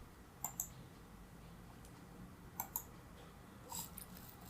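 Computer mouse clicking while opening a cheat table in Cheat Engine, a few sharp faint clicks in pairs spaced apart over quiet room hiss.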